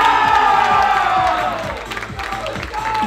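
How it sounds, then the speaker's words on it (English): An audience at a men's classic physique competition at a state championship bursts into loud applause and cheering, a dense crowd roar with whoops that eases slightly mid-way before swelling again. "Big round of applause, ladies and gentlemen, for the two competitors here receiving their medallions."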